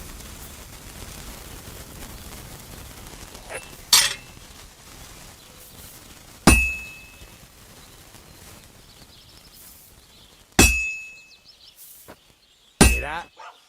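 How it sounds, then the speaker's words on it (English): Hammer strikes on heated metal at an anvil in Kingdom Come: Deliverance 2, four sharp ringing clanks spaced a few seconds apart over a quiet low background. "you can tell a good strike by the sound it makes"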